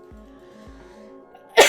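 A single sharp sneeze bursts out loud and close at the very end, after a quiet stretch with faint background sounds.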